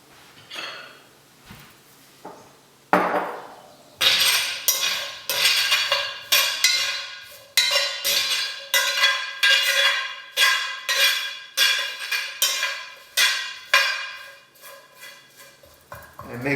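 Diced potatoes tossed with olive oil in a metal bowl or pan for breakfast tacos, giving a run of rhythmic clattering, scraping shakes, fairly close and steady, repeating about every second with brief quieter gaps.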